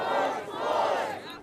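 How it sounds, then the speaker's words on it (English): A huge protest crowd of tens of thousands outside Houston City Hall, a loud sustained roar of many voices cheering and shouting together, close and dense. "where today a huge crowd, tens of thousands, gathered outside City Hall, a powerful and peaceful symbol"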